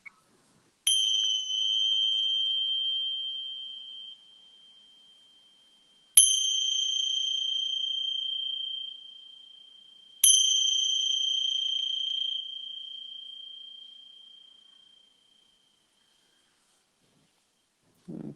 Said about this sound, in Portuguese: Receba então o som do sino.